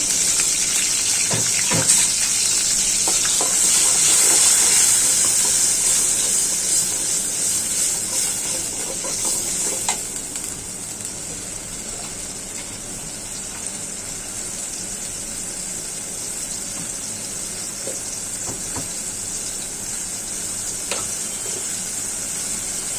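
Onion paste, salt and green chillies hit a hot frying pan, giving a loud steady sizzle with a bright hiss that slowly settles and softens over the following seconds, with no talking.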